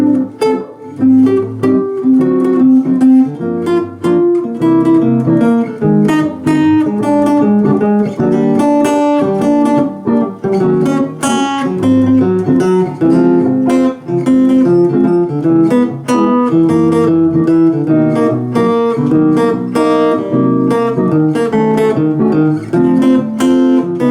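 A guitar plays a continuous voice-leading line built from fourths, fifths and tritones, its notes picked in a busy, unbroken flow at a steady loud level for over twenty seconds, with no voice.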